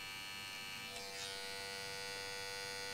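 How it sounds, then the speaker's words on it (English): Electric hair clipper buzzes steadily against a child's hair during a pompadour haircut, a close, constant whine that dips briefly as the blades move over the head. "I turn the clipper around and I shave up to it"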